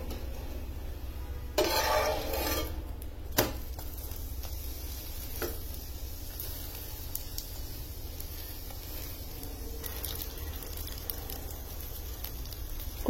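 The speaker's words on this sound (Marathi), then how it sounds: "थोडं बटर लावून घ्यायचं आणि नंतर पुन्हा या बाजूनीच परत शेकून घ्यायचा." A butter-brushed kulcha roasting on a hot tawa, with a steady close sizzle and crackle throughout, a couple of louder bursts of spatter and a brief scrape or clink early on, no speech.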